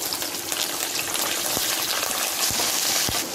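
Chopped green chillies and two sprigs of curry leaves fry in hot oil in a pan, a steady close crackling hiss with a few sharp pops and spits breaking through.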